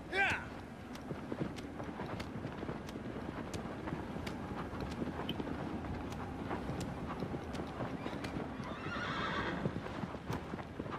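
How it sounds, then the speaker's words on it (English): A horse gallops in the video game Shadow of the Colossus, with steady clip-clop hoofbeats, a whinny, and wind rushing past, all running under ongoing talk. "Get on your fucking horse."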